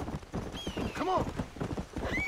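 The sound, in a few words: horse galloping in Red Dead Redemption video game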